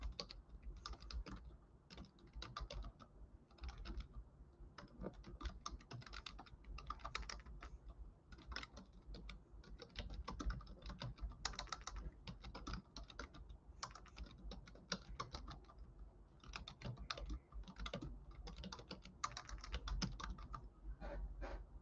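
Continuous typing on a computer keyboard, with dense, irregular key clicks running steadily throughout at close range, a few sharper strokes standing out, and no voices.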